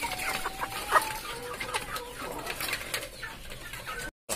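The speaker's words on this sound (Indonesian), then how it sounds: "Sangat lahap sekali ayam-ayam kita makan." Chickens cluck busily while eating BSF maggots, with scattered short clucks and pecking scuffles over a continuous farmyard background that continues steadily throughout.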